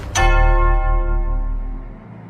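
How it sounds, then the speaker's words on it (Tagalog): A loud, heavy church-style bell strikes once in a Filipino horror audio drama, its deep ringing tone sustaining and slowly fading over about two seconds, with no voices. "biglang naagaw ng malakas na tunog ng kampana ang buong lugar kung nasaan sila"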